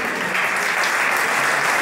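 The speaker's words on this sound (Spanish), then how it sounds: "así que pido un aplauso para ella." An audience at an award ceremony in Córdoba applauds, a dense continuous wash of clapping from many hands that holds steady at full strength for the whole stretch.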